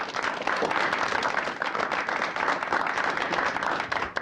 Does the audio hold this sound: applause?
yes